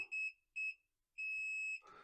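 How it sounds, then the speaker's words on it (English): Multimeter continuity beeps while testing a Samsung dryer's heating circuit: a steady electronic tone sounds twice briefly, then holds for about half a second, close and clear, with a rustle at the end. "it's just supposed to beep. There's a connection"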